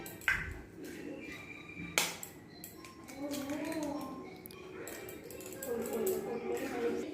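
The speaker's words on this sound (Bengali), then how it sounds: "একটি চওড়া পাত্রে সবার প্রথম দুটি ডিম ফাটিয়ে নিচ্ছি" Two eggs cracked into a wide bowl, heard as two sharp, close clicks about two seconds apart, followed by a softer stretch with a person talking over the kitchen sounds.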